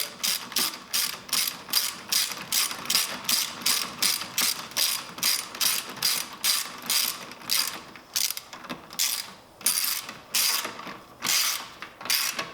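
A hand ratchet tightens a bolt on the intake of a 2017 Honda Civic Si, a rapid series of sharp clicking bursts in a steady back-and-forth rhythm, close and clear with brief pauses.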